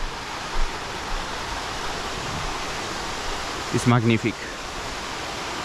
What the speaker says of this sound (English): you walk less than 30 seconds, less than 1 minute, and you have a gorgeous waterfall